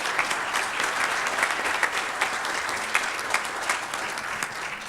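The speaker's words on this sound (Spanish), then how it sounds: "Un aplauso para todos ellos" Audience applause for a panel at a transport energy-efficiency forum: dense, steady clapping from a sizeable crowd, even in level throughout with a few sharper individual claps standing out.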